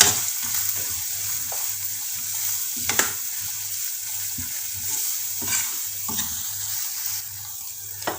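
Ground spices with chilli powder stirred and roasted in a pan for aloe vera sabzi, a steady close sizzle broken by a few sharp scrapes of the spoon against the pan, with no voices.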